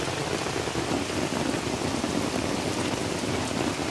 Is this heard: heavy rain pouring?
yes